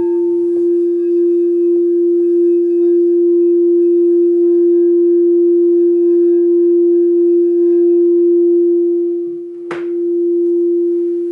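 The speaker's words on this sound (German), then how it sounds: "genieße den Kristallklang." A crystal singing bowl holds a single steady, pure tone that rings loud and unbroken for about eleven seconds, with a brief soft knock near the end and no speech.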